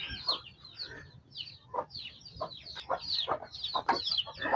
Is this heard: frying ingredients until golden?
no